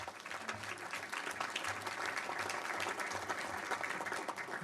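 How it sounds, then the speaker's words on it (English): Steady round of applause fills a congressional committee's organizational meeting room, a dense even patter of many hands clapping at once, sustained and fairly loud throughout without pause. "Give him a round of applause."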